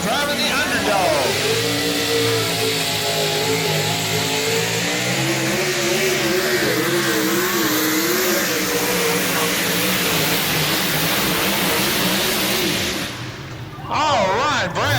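The Underdog pulling truck roars through a pull at a Mid South truck and tractor pulling session in Ardmore, Tennessee, its engine loud and close, revving and wavering in pitch for about thirteen seconds before dropping off, with an announcer talking over it.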